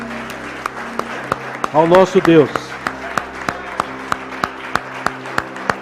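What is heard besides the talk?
congregation applause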